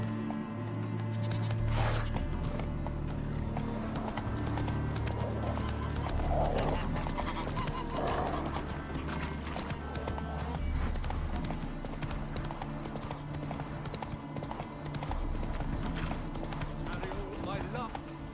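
A horse gallops in The Witcher 3, with rhythmic hoofbeats clopping steadily and close throughout, occasionally joined by a whinny, while character voices talk over them.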